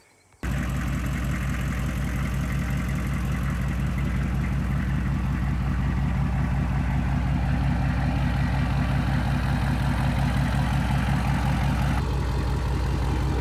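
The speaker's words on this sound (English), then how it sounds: "I'm gonna start the truck again" A truck engine turns over and catches, then settles into a steady, rumbling idle that runs on evenly, close by with no talking.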